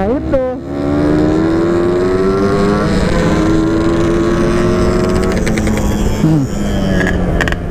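A Yamaha RX King motorcycle engine revving loud and close, its buzzing pitch climbing and holding high, then dipping briefly before rising again near the end.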